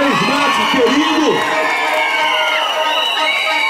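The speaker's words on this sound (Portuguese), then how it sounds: "Cadê a salva de palmas do Breno?" A rally crowd in Pingo D'água, Minas Gerais cheers and shouts loudly, with whoops and children's voices over a sustained roar, while a voice over a PA carries through it.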